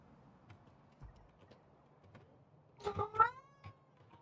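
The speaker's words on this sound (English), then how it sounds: "Yes, Kitty, are you hungry?" A house cat meows a few times in a short, faint burst near the end, following quiet background thumps in an otherwise still indoor room.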